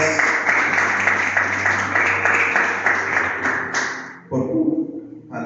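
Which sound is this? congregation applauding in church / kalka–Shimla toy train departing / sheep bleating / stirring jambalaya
congregation applauding in church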